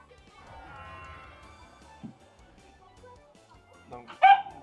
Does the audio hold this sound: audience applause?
no